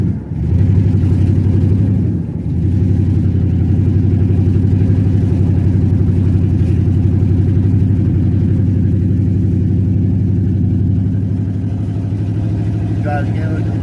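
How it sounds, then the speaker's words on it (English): A truck engine runs at a low, droning hum that dips and stumbles briefly near the start before holding steady, sounding labored and unable to rev freely, heard close with a voice talking over it. "Try to give it the throttle and it just dies out."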